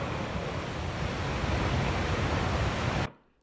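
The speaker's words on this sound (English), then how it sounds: "You can really hear it roar." A steady, dense roar of rushing water from Tower Falls in Yellowstone fills the air without pause, loud and broad, then cuts off abruptly at the end.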